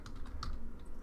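Quick keystrokes on a computer keyboard entering a command-prompt line of Python, a short soft run of taps fairly close and without talk.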